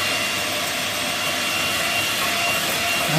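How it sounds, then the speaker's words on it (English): Electric mixer whisking egg whites with sugar gradually added until stiff peaks form, for a 1914 Texan pecan pie; a steady, loud whirring drone runs unbroken throughout with no talking. "We'll gradually add in the sugar, whisking it all in until we get nice"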